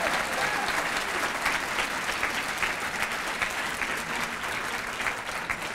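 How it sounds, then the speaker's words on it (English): Diners at an award dinner honoring Jeremy Scahill applaud the evening's MC with loud, continuous clapping from a large crowd, a dense, unbroken patter that stays strong for several seconds. "Let's give him another round of applause."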